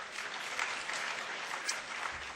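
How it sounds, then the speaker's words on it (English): Audience at the CPAC 2012 conference applauding steadily on its own, a dense wash of clapping at moderate loudness with a few sharper individual claps standing out. "Go ahead and give yourself some applause."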